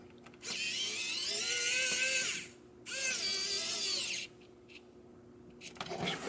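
A WowStick 1F Plus electric precision screwdriver whirs in two bursts of a couple of seconds each, with a short pause between them. The motor is close and steady, with a rising-and-falling whine.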